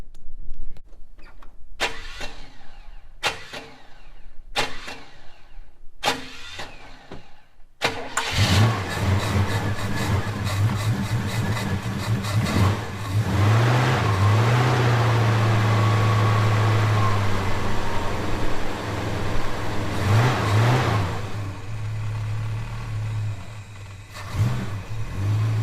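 A Holden HK car engine starts after several cranking bursts, catches loudly and rumbles close by, revving up and down a few times before settling into a low idle.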